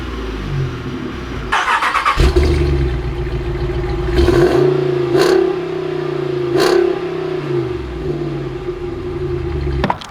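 Exhaust of a 2020 Ford Raptor or 2020 Ram Power Wagon off-road pickup, a steady loud rumble after a cold start, with two sharp throttle revs rising and falling over the idle, recorded close with no talking.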